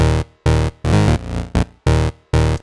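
A deep house wavetable synth bass built from two unfiltered sawtooth oscillators, one tuned seven semitones up, plays six loud, buzzy, rhythmic notes with short gaps between them.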